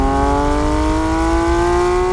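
Porsche GT3 RS engine revving hard toward its 8,400 RPM limit, a loud, steady, rising high-pitched howl heard up close with no talking.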